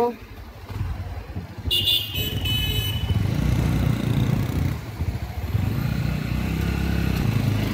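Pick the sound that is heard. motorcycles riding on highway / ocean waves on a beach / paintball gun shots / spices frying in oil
motorcycles riding on highway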